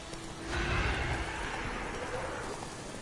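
Horse neighing and moving in The Witcher 3, a loud close whinny rising then trailing off with a faint hint of hooves.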